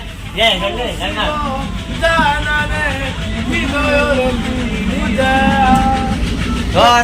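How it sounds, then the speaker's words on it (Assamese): A goods train rolls along the tracks in Assam, heard from aboard as a steady low rumble under continuous nearby talking. "ট্ৰেইন গৈ আছে আৰু"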